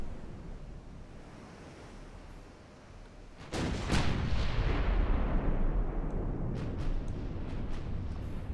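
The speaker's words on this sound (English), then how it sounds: "Now he's firing." Battleship guns firing in Ultimate Admiral: Dreadnoughts, a battlecruiser against a dreadnought with 12-inch shells: a deep, heavy boom breaks over steady sea-like wind noise, followed later by several fainter distant cracks.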